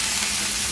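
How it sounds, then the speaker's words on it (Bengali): Shrimp tipped into a hot oiled pan with green chilli, cumin and black pepper, hissing in a steady, close, even frying sizzle with no break. "আর এখানে চিংড়ি ঢেলে দিলাম"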